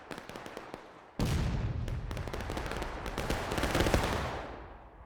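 Musket gunfire in the Civil War video game War of Rights: scattered single shots at first, then a sudden dense, sustained volley of many rifles crackling continuously, loud and close, tapering off at the end.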